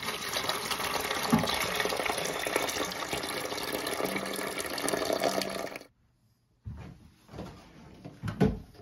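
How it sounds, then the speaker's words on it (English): Water draining out of a toilet tank as the fill valve is lifted, a broad steady gush that cuts off abruptly, followed by a few clunks and handling sounds. "Now I'm going to get the rest of the water in the tank coming out when I lift the fill valve out"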